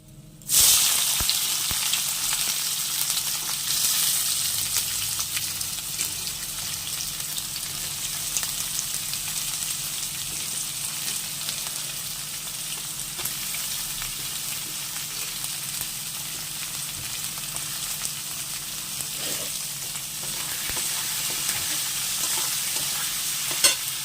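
Onions frying in a pan of hot oil with whole garam masala spices, giving a loud, continuous sizzle and hiss with stirring scrapes throughout.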